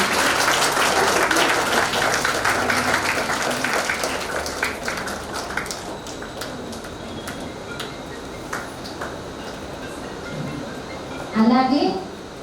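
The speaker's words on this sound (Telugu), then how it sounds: "ఇంకా చప్పట్లు కొడితే అక్కయ్య వస్తారు" An audience claps to welcome a guest at a birthday celebration, applause strongest at first and thinning out, with talk over it and a brief clatter near the end.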